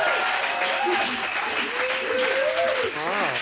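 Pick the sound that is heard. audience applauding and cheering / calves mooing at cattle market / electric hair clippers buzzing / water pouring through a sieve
audience applauding and cheering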